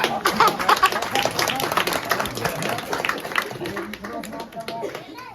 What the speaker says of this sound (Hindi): एक बार और ताली